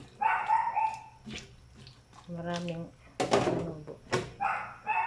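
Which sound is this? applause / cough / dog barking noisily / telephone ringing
dog barking noisily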